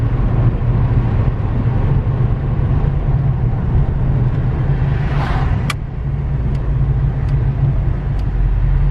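A car engine hums steadily with a low, constant rumble while driving on a road, road noise filling the background throughout.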